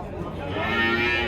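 A cow moos at a livestock market, a sustained low call rising midway above the busy hum of the surrounding bazaar.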